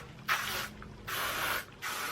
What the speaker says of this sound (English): To really finish it off, I'll go in with some hairspray. I've got the Bumble BB Strong.